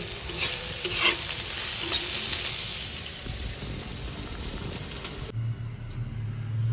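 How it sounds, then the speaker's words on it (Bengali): Onions sizzle and hiss in hot oil while being stirred and browned, a close, continuous frying sound that cuts off to quieter background near the end. "পেঁয়াজটা লাল করে ভেজে নেব"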